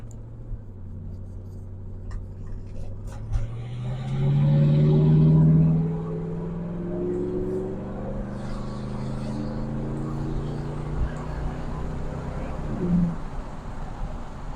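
A car engine runs steadily at close range, its pitch climbing as it revs, then easing as a gear shifts and the tone drops back, with talk over parts of it.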